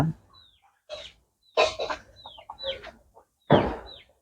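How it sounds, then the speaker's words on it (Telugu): A hen clucks close by in a few short, separated bursts, with quiet pauses between them. "చూడండి ఇదనమాట పెట్ట"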